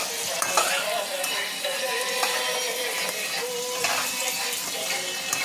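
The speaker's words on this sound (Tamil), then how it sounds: "நல்லா வெங்காயமும் இஞ்சி பூண்டு நல்லா வதங்கணும்," Onion, ginger and garlic sautéing in a pan for wheat rava upma, a continuous close sizzle with repeated scraping and stirring strokes from a utensil, no talking.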